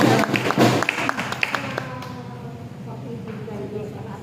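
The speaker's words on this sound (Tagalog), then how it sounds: "Malakas na palakpak" A prayer meeting congregation claps loudly in a burst of sharp, rhythmic hand claps that thins out after about two seconds, leaving voices and a sustained musical tone.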